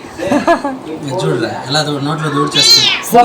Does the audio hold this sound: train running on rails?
no